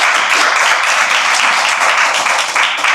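A church congregation applauding in worship: loud, dense clapping from many people, continuous and close, with no pause.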